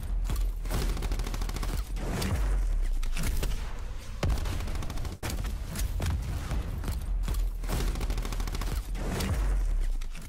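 KAP 45 full-auto pistol in Black Ops 4 firing in dense rapid bursts, loud and close, with several sustained strings of shots separated by brief pauses and no talking.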